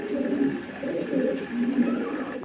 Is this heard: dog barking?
no